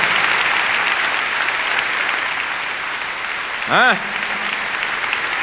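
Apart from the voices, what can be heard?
church congregation applause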